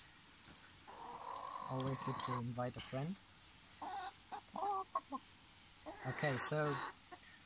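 A chicken clucks close by in short bursts while someone talks over it outdoors.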